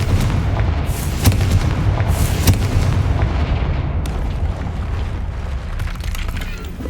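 Confringo explosion spell cast in the Hogwarts Legacy video game, a series of deep booming blasts and sharp bursts over a heavy rumbling low background that slowly fades.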